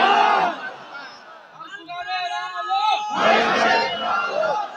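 A crowd at a religious gathering chants a slogan in unison, a loud swell of many voices following a single leading voice.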